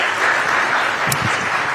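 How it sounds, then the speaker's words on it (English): Audience applause at a live conference event, a steady wash of clapping heard briefly and fairly loud with no voices over it. "Please, big round of applause,"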